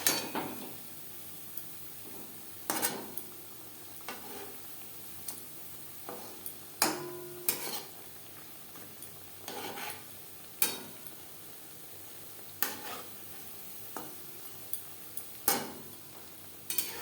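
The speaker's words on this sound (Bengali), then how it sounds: "উল্টে পাল্টে মুচমুচে করে ভেজে নেব।" Khasta goja pieces fry in a pan with a quiet background sizzle, broken by sharp irregular clicks and taps as the pieces are turned over, close and without talk.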